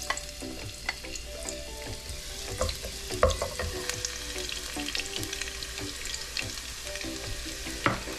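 Garlic frying in achiote oil for a Menestra de mellocos, a steady close sizzle with scattered spoon scrapes and clicks running through, no talking.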